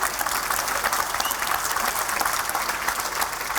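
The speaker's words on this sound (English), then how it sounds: "give him a round of applause" Conference audience at AngularConnect 2018 clapping, a dense, loud burst of applause from a packed hall that holds steady throughout with no voices over it.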